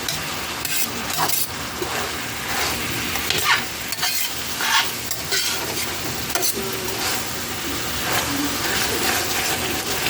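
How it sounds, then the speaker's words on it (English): Meat sears in a roasting pan glazed with brown sugar and maple syrup, giving a loud continuous sizzle with scraping, stirring movements throughout and no talking. "So I'm kind of going like this to sear it a little bit more."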